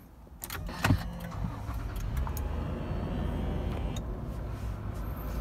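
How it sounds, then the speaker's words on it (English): A 2011 Toyota Land Cruiser Prado VX with push-start ignition: a brief click and starter crank, then the engine catches and settles into a steady, close idle. "Give the car a start now. So it's a push start ignition"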